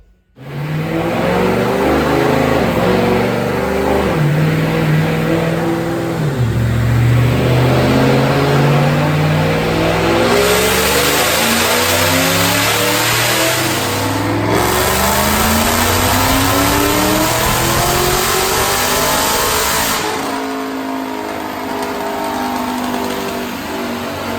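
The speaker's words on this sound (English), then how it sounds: "So check out this dyno pull." A 2005 Ford Mustang with a Whipple supercharger, Detroit Rocker camshafts, Kooks headers and an automatic transmission, run on 93 octane pump gas during a dyno pull. The engine roars loudly and steadily, climbing in pitch through the gears with shifts, close up.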